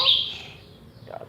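A small bird chirps sharply and close at the start, followed by a fainter short call about a second later.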